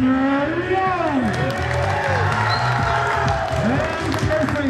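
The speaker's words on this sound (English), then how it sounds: "Big round of applause for Tanner Young" High school wrestling senior night crowd in a gym applauds and cheers at moderate distance, the clapping partly masked by loud, echoing announcer speech and a sustained tonal hum.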